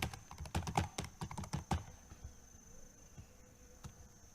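Password keys tapped on a computer keyboard during an operating system setup, a quick burst of close, crisp clicks in the first two seconds, then quieter with one more isolated click near the end.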